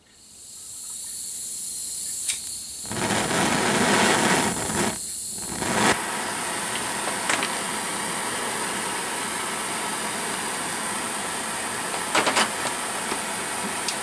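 A torch burning from a disposable gas bottle hisses steadily and close, with a brief surge and dips early on, then a constant, even roar.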